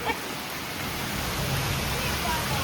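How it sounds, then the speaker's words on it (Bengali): Heavy storm rain pours down in a dense, even hiss that stays loud and unbroken, close around the listener. "ঝড় বৃষ্টি শুরু হয়ে গেছে"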